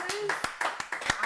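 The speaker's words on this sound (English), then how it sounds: "I have to clap." Hands clap several times in quick, slightly uneven succession, close and crisp, with speech-like sounds overlapping between the claps.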